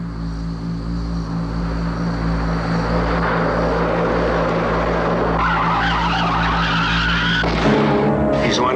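A car tire screeches in a loud, sustained skid over a steady roaring engine-like drone, then abruptly breaks off with a sharp change near the end as the tire blows out.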